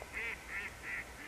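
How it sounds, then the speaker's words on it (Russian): Ducks calling to each other on a river in a city park, four evenly spaced nasal quacks, faint and somewhat distant. "утка орёт, перекликается с друг другом"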